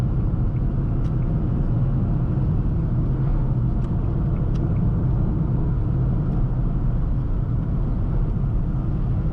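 Nissan Magnite 1.0T turbo manual pulls hard to overtake a Polo on the road, its steady engine drone and road rumble loud and continuous from the cabin with no letup.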